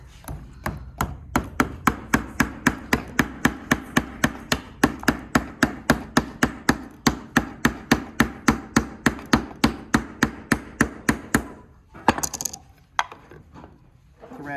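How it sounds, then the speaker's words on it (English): A hammer drives a nail through a piece of rope into the neck of a wooden bird door knocker. The sharp, loud taps fall in a steady, fast rhythm for about twelve seconds, then a few scattered knocks follow. "now you just got to hammer it into the bird's neck."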